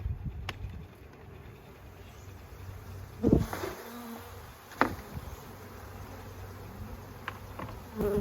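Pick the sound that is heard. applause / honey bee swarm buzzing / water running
honey bee swarm buzzing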